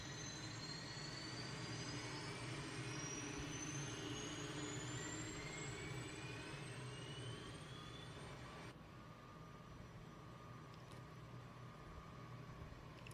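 Simulated aircraft engine running in a flight video game, a steady dense roar with rising whining tones that holds throughout, shifting slightly in pitch partway through, with no talk.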